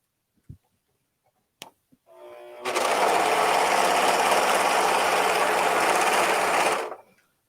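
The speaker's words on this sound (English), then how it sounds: "I just want to stitch my raw edges." An Amber S100 overlock machine stitching raw edges of fabric: a few clicks, then a steady, loud, close-up mechanical whir running for about four seconds before stopping.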